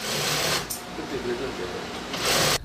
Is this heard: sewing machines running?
yes